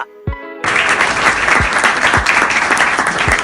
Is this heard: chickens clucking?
no